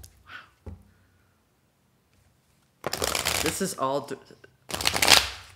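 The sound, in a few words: shuffling tarot cards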